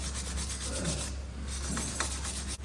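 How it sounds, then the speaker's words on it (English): Wire brush scrubbing a rear brake hub on a Ford Focus RS Mk III after the disc is removed, a steady close rasping scrape running continuously with no pauses. "Clean the hub with a wire brush"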